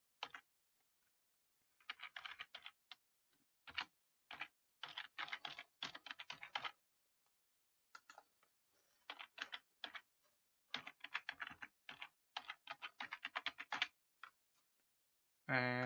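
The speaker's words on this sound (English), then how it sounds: "Type in my email." An email address is typed on a computer keyboard in quick bursts of close, crisp key clicks separated by short pauses, ending with a brief different tone.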